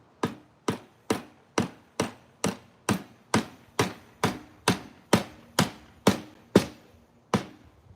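About sixteen sharp, evenly spaced knocks of a metal object striking wood, used in place of a hammer while building a birdhouse, land at a steady pace, close and clear, with silence between blows.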